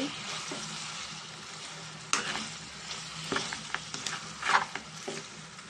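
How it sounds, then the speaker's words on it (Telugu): Chicken fries in chili powder over a low flame with a steady close sizzle, while a spoon scrapes and stirs the pan in irregular clatters that grow busier toward the end. "దీన్ని ఇలాగే సింగిల్లో పెట్టుకొని ఫ్రై చేసుకోవాలండి"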